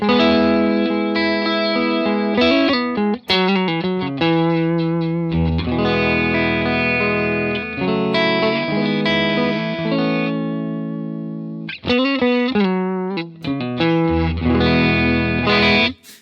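Telecaster electric guitar through an amp plays a melodic phrase of chords and single notes, bathed in a smooth, lingering plate reverb, with no talk.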